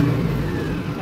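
A new 2025 Mahindra Arjun 50 HP Ultra-1 555 DI tractor engine runs on its hand accelerator, giving a brief, steady mid-pitched drone close by.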